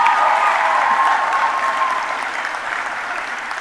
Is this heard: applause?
yes